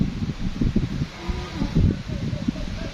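A strong, frightening storm wind tosses and rustles leaves in a steady, loud roar with gusty surges throughout.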